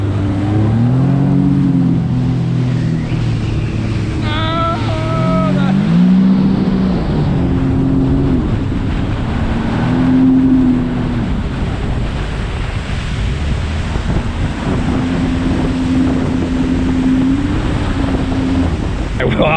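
A Sea-Doo RXT-X 300 jet ski runs at speed in a rolling race on open water, its engine droning and rising in pitch over heavy wind rush and splashing spray, loud and close throughout.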